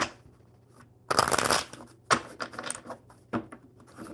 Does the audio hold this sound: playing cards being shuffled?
yes